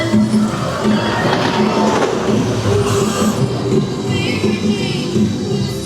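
Stealth roller coaster train at Thorpe Park rolling past: loud, continuous rumbling and rattling with clattering wheel noise and a brief high squeal, heard close with crowd noise faintly underneath.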